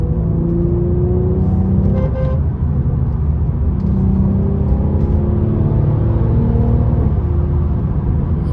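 A 2018 Mercedes-Benz E43 AMG accelerates with a loud, close engine drone whose tones climb and drop through a gear change, marked by a short crackling pop, then pull steadily on.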